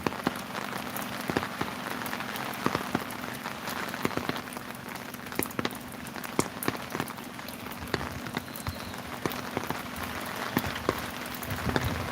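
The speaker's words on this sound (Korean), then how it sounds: "비가 오고 바람이 부는 무렵" Steady rain falls around a lotus pond at a temple, a dense constant patter of drops on water and surfaces with scattered louder splashes, fairly close and continuous throughout with a low hum underneath.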